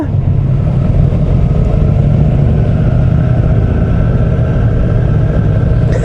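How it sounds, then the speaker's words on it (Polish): A steady, loud engine rumble, likely from motorcycles in a group ride at a season-ending run, drones continuously with no clear pass-bys. "Kurwa Milion motocykli tu jedzie"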